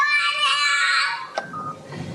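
A young child screams close by in a high, strained, sustained wail for over a second, then trails off into a few brief, softer cries.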